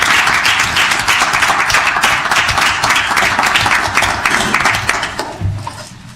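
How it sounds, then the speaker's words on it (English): Applause in a council meeting chamber, close and loud with distinct individual claps in a dense burst that tapers off toward the end, no talk over it. "we'll have a nice round of applause."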